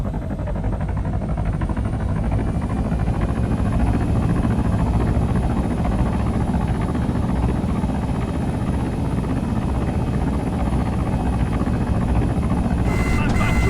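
A helicopter in the military game Arma 3 flies with a loud, steady, dense rotor and turbine roar that holds constant throughout, with no talk over it.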